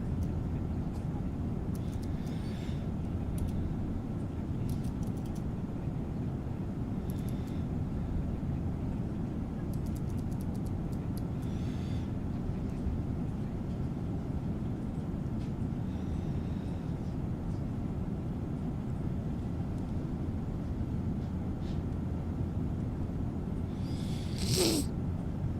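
A Boeing 777-200 cruises in a flight simulator game on a flight from Rome, Italy. Its engines give a steady, broad cabin roar throughout, with a few brief faint sounds on top.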